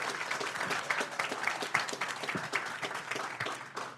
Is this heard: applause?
yes